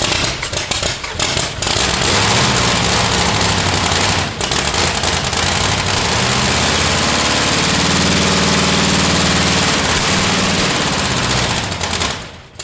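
A demolition derby car's engine revs loudly and close by, with rough, popping bursts early on and then a sustained roar that rises and falls before cutting off.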